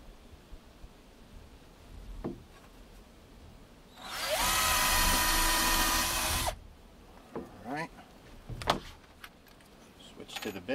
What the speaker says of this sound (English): Gonna drill a couple pilot holes.